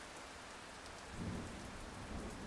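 Steady rain of a thunderstorm falls throughout, with a low rumble of thunder swelling in about halfway and continuing underneath, fairly soft overall with no voices.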